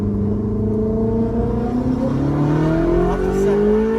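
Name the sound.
Ferrari F430 engine accelerating in first gear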